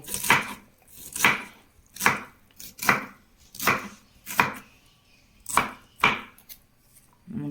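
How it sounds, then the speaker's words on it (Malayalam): A knife chops taro (colocasia) stems into small pieces on a board, with about a dozen crisp, evenly spaced strokes, close and clear, and no talking. "ചെറുതാക്കി അരിഞ്ഞെടുത്തിട്ട് ഇത് ഇതുപോലെ അരിഞ്ഞെടുക്കാം"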